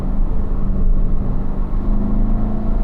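Corvette on a race track with a loud, close engine rumble as it accelerates, a continuous throaty drone with slight fluctuations.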